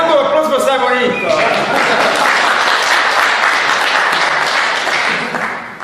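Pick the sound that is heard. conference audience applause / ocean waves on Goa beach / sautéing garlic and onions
conference audience applause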